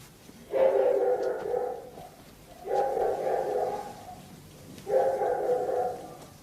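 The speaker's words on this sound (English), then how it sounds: "Quiet, dog." A dog barks at night inside a house, with three separate sustained bursts of barking that are clear and moderately close. No talking is heard.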